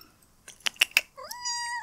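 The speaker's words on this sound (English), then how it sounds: "hello kitty cat." A cat meows softly, a few short chirpy calls followed by a rising drawn-out meow, faint and alone.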